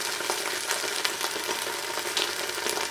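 Soy sauce hits a hot pan of vegan pad thai, giving a steady, fairly quiet sizzle and fry with small crackles and no talking.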